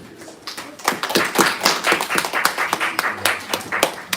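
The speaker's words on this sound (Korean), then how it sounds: "한 번 더 박수 한번" A small church congregation at a Sunday worship service claps in a brisk, fairly regular rhythm, the individual hand claps crisp and close over about four seconds.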